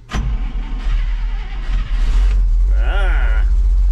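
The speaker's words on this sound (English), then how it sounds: "Let's give this thing some choke," An old International Loadstar truck engine cranks and fires on choke, settling into a loud, close, rumbling idle with a brief flutter of revving near the end.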